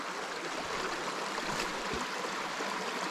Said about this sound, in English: So just a small creek, but lots of big rocks. There's a little pool here.